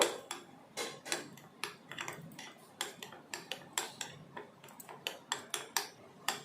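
Spice paste mixed by hand with salt, turmeric and chili powder, giving a quick, even run of light clicking and tapping strokes against a bowl, close and clear with no talk.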